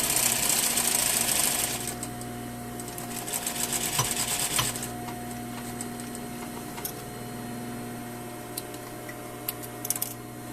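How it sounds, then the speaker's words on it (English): A sewing machine stitches a skirt lining with a steady, fast mechanical whir that carries through the whole stretch, loud and close, easing slightly in the later part, with no talking. "I'm going to sew from bottom to the second notch."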